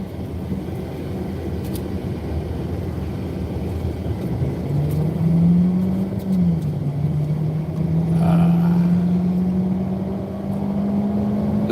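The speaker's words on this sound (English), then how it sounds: "Listen to that monster engine roar. All 4 cylinders." A four-cylinder car engine roars up from a steady rumble, its tone climbing and holding through a long, loud pull with no talk over it.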